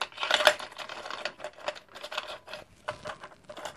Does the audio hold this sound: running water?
no